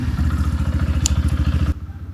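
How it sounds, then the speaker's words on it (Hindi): A Yamaha FZ-S V4 motorcycle's exhaust thrumming at a steady idle, with a loud, even low pulse that drops sharply toward the end. "ये कुछ एग्जॉस्ट है इसका।"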